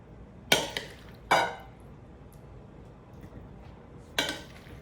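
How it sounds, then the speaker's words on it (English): Potato salad being served from a large plate into a smaller bowl, with three sharp clinks of a utensil against dishware, each fading quickly, set against a quiet kitchen background. "I'm just going to put it in a smaller bowl here"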